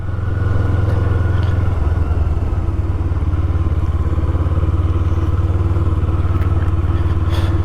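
A cruiser motorcycle with its stock exhaust rumbles steadily while riding in 20-degree weather, a loud, even low-pitched engine drone with wind noise and no talk.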